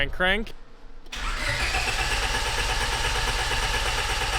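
A Honda Civic engine turns over and catches, then settles into a steady rumbling idle after a brief voice at the start.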